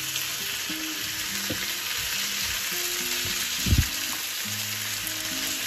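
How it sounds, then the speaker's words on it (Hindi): Potatoes frying with spices and tomatoes in a pan give a steady, close sizzle, with a few low thumps of stirring near the middle. "और अब इन सभी मसालों के साथ और टमाटर के साथ हम आलू को भुनेंगे अच्छी तरह से"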